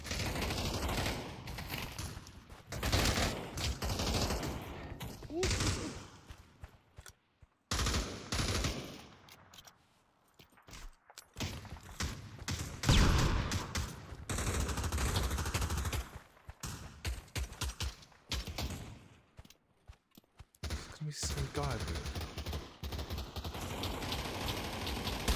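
Rapid bursts of automatic gunfire in the Pavlov VR shooter during a team deathmatch on the Dawnville map, dense rattling volleys that keep coming with brief lulls, loud and sustained across the clip.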